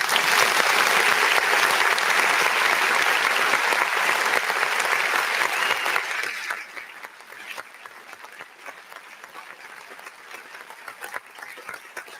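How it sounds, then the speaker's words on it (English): Applause from an event audience after a panel, loud and full for about six seconds, then falling away to scattered, quieter claps that continue faintly. "And give yourself a round of applause."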